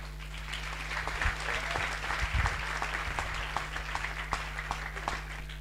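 Steady crowd applause in a conference hall at a general assembly gathering in Chania, dense clapping with a few sharper individual claps standing out, over a constant low electrical hum.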